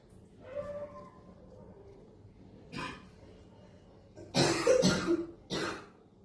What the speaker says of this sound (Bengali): শোনো, তোর খুব কাশি হয়েছে, কাশির ওষুধটা খা